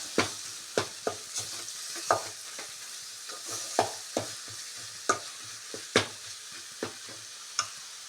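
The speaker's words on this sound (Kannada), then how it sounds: "ಇದು ಸ್ವಲ್ಪ ಫ್ರೈ ಆದಮೇಲೆ ಹಲಸಿನಕಾಯಿನ ಹಾಕೋಬೇಕು" Spiced masala frying in a pan before raw jackfruit goes in, a soft sizzle under a series of crisp spoon scrapes and knocks against the pan at an irregular pace, with no one talking.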